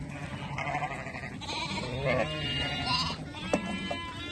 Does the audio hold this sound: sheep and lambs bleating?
yes